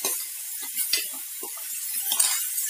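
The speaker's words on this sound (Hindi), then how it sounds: "जीरा जैसे ही ब्राउन हो जाएगा, हल्का ब्राउन, आपने फिर इसमें चटनी का छोंक लगा देना है।" Hot cumin tempering hits sesame chutney with a crisp, hissing sizzle, punctuated by faint scraping and clinking from the pan or spoon, close and moderately loud, with no voices.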